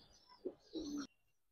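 A Giribaz pigeon coos close by: a short soft note, then a longer throaty coo, followed by quiet.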